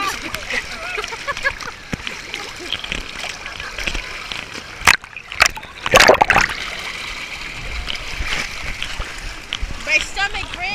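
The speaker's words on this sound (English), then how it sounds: "The brake just pushed us in the water." Water splashes and sloshes at Blizzard Beach water park, with sharp bursts around midway over a running-water background, while people talk and react excitedly.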